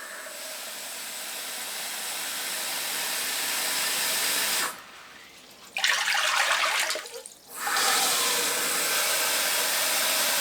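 Cold water running from a tap into a sink or basin: a steady, close hiss of flowing water for several seconds, briefly cut and muffled, then gushing again at full strength until the end.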